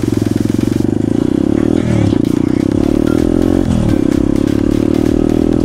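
A pit bike motorcycle rides along with a loud, close engine drone that rises and dips slightly as the throttle shifts, steady throughout with road clatter underneath.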